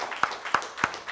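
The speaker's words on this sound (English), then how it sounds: "Give the Lord a hand clap." Church congregation hand clapping at a Mother's Day service, three sharp, evenly spaced claps that ring out clearly in a quiet room.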